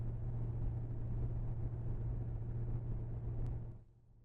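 A 1967 Ford Falcon stock car idles through glass-pack mufflers, giving a steady, close, deep exhaust rumble that drops away abruptly near the end.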